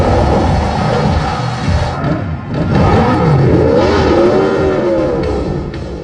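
A motorcycle engine revs loudly and continuously during an escape scene from a John Wick film, its pitch rising and falling through several throttle pulls with no speech.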